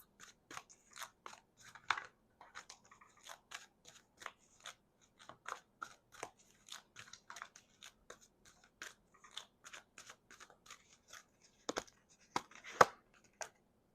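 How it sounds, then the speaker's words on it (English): Crisp, rapid riffling and snapping of a large deck of reading cards being shuffled in quick irregular bursts, close and fairly quiet, with no voices. "Even though I'm doing all this shuffling, I'm doing all of this shuffling."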